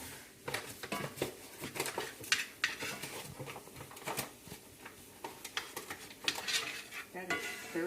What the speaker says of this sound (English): Gotta stir it around and get it all.